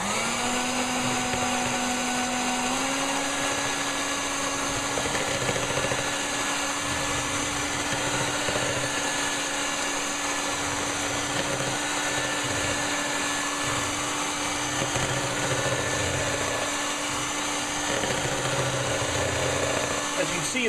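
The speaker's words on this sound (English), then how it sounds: "So I'm going to go in here with my mixer now." An electric mixer whips egg whites for a pavlova, a loud continuous whirring motor with a steady pitch that shifts slightly upward early on and runs throughout the clip.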